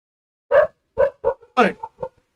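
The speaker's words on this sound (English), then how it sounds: "Stupid dog is keeping on barking." A dog barks in a quick burst of about six loud, close barks with short gaps between them, heard alone during a recorded lecture on control systems.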